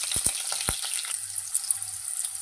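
Cumin seeds and green chillies sizzle in hot oil for a curry: a steady bright hiss with a few sharp crackles and pops early on, close and continuous, with no talking.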